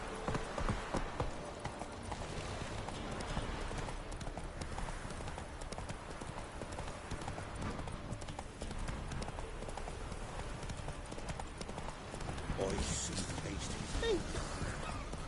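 Horse hooves galloping in the video game Witcher 2, a steady rhythmic clip-clop running throughout over background game ambience, with voices speaking faintly along the way.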